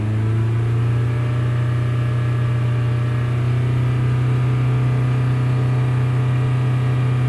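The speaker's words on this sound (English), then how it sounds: "So I'm gonna snap the throttle or go to high RPM." A 2010 Toyota Camry four-cylinder engine with a P0171 lean fault drones steadily at high RPM after a throttle snap, a loud, close, continuous hum with no talk over it.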